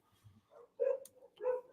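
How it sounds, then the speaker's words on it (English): Dog barking in the background, two or three short, muffled barks with a soft whimper, faint and distant in an otherwise quiet room. "I apologize for the dog in the background."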